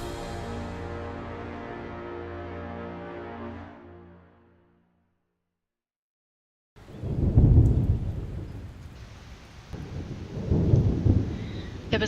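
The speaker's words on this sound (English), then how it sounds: "There was a storm outside" A thunderstorm breaks after a sustained tonal passage fades into silence: heavy rain hiss with two deep, rolling thunder rumbles, close and loud, no voices over it.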